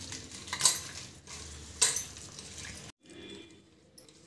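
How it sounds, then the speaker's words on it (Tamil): Salted chicken tossed with spices for a chicken dum biryani, giving wet squishing and scraping with a couple of metallic clinks from a spoon against the bowl, near and fairly quiet, with no talking. "இப்போ இதெல்லாத்தையும் சேர்த்து நல்லா கலந்து"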